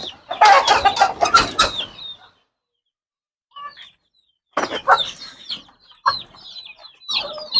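A white kelso gamefowl rooster clucks and calls close by in bursts of short, throaty notes, with a loud run early on, a pause, then more scattered clucks and chirpy calls, no talking.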